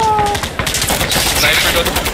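Rapid automatic gunfire in a tactical shooter game about breaching, loud and continuous bursts filling the whole moment with dense repeated cracks.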